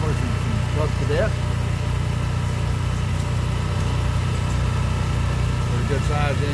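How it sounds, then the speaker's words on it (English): A large stationary engine at a tractor and engine show runs at a steady idle with a low, even throb. Outdoor show ambience surrounds it, and people talk faintly in the background. "Pretty good sized engine there."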